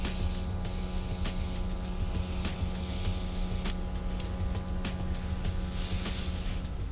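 Dinair airbrush spraying makeup foundation, a steady continuous airy hiss with a faint compressor hum beneath, running unbroken at close range with no talking.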